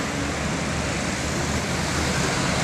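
An MPM intercity bus from Padang, a Hino-engined SR2, passes on a congested road in Sumatra amid a steady, broadband roar of traffic and engine noise that holds evenly throughout with no talk.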